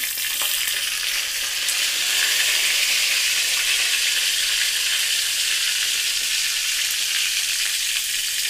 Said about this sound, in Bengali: তেল গরম হয়ে গেছে, আমি একটু 5 ফোড়ন দিয়ে দিচ্ছি